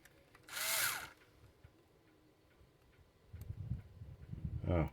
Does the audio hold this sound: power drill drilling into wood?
yes